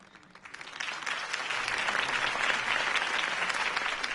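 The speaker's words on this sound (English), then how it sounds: "If only Mr. Wayne, my campaign's largest backer, could have heard that applause" A crowd at a campaign rally in Batman: The Telltale Series breaks into applause, a dense clapping roar that swells quickly and holds steady and full.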